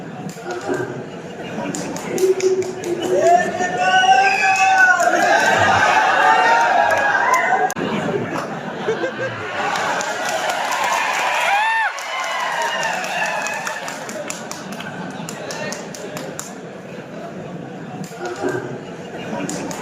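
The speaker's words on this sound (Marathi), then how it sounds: "त्यावेळी संपूर्ण मेळाव्यात शिट्ट्या आणि टाळ्यांचा वर्षाव झाला" A rally crowd roars with sustained cheering, shrill whistles and scattered clapping as an elderly man makes his entrance at a political gathering; the dense noise swells loudest early on, then stays steady with voices mixed in.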